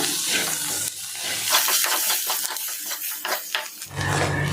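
Bitter gourd fry with salt being stirred in a pan, a steady wet scraping and light sizzle with rhythmic spatula strokes, close and fairly loud, no talking.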